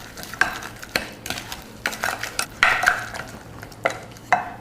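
A spoon works through a sweet mango filling in a bowl, giving repeated soft scraping and clinking strokes at an uneven rhythm, close and steady without any voices.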